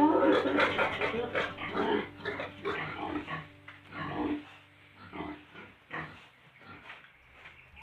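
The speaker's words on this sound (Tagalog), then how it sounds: "Kita ninyo ang isang gilt na nakasampa sa pader para mag-pakyut sa barako." A young boar and gilts grunt in a pig pen during teaser-boar training, with repeated low, rough grunts and snorts of varying loudness, close by.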